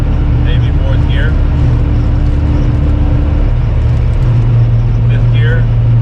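A pickup truck on 35-inch tyres and stock gears accelerates up to highway speed, a steady loud engine and road drone filling the cab from start to finish, with the pitch shifting partway through.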